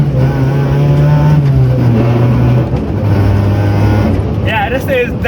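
A loud Toyota AE92 rally car engine roars steadily with rising and falling pitch, close and dominant throughout, with a brief high whine near the end.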